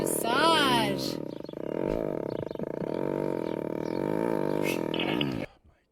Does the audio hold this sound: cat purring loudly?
yes